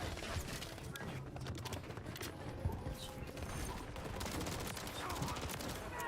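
Call of Duty MW3 gunfire, a steady crackle of distant and mid-range shots with mechanical clatter, fairly quiet, under faint voice chatter.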